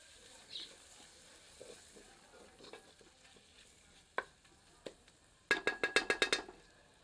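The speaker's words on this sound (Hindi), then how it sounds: "सबको मिलाकर 2 से 3 मिनट मध्यम आंच पर भूनते हैं" Mutton and spices such as garam masala roast over medium heat for a mountain-style Pahadi curry, with faint sizzling, scattered clicks, and then a quick burst of sharp utensil scrapes and clinks near the end.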